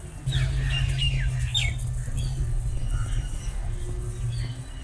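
Birds squawking and chirping in the aviary of a mini zoo at Governor House Lahore, with short bright calls scattered over a steady low hum of background noise.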